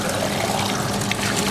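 Water gushes steadily out of a central heating system during a power flush, a close, continuous splashing pour with no other sounds.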